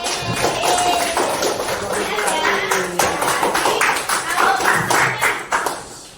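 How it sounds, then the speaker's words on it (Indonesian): Students in a classroom clapping hands together in unison, a steady run of sharp rhythmic claps lasting several seconds, fading out at the end, with voices mixed in. "Untuk itu mari kita tepuk tangan bersama."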